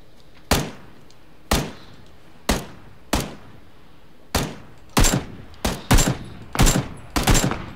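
Burst-fire gunshots in the battle royale game PUBG, about eleven sharp cracks spaced roughly half a second to a second apart, each with a short decaying tail, the last few coming faster and heavier, loud and close with no talk.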